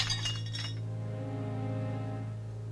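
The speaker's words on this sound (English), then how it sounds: "The steel helmet has been smashed apart." Steel helmet smashing apart in the Blank Dream video game: a sharp glassy clink and shattering burst at the start, fading within a second into a sustained low droning tone.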